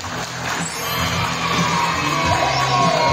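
Applause and cheering from the audience at a year-end Christmas party, a loud, dense crowd of clapping with shouts and whoops that swells and holds steady.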